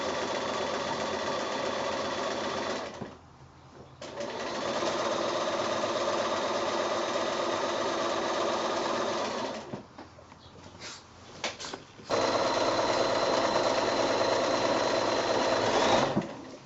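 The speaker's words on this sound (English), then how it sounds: "I'm free motion stitching" A sewing machine does free motion stitching across a roadwork-themed quilt, a close, steady motor whir in long runs. It stops briefly twice, with a few quieter starts before resuming louder for the final stretch.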